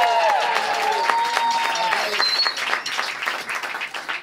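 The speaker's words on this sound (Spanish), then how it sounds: "Un aplauso muy fuerte" Studio audience applause on a comedy talk show about wine, a burst of many hands clapping under cheers and whoops, with a voice speaking over the start before the clapping continues on its own.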